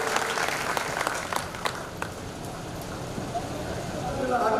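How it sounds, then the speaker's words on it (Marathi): An audience at a Krishna Janmashtami gathering claps loudly to welcome guests, a dense burst of applause that gradually thins out over a few seconds. "सर्वांनी जोरदार टाळ्या वाजवून त्यांचं स्वागत करतात."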